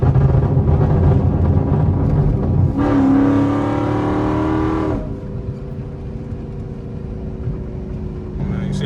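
Engine of a Chrysler 300C Hellcat revving and holding gear, a loud sustained rising drone with a surge in the middle, then settling to a steady held RPM, with people talking over it.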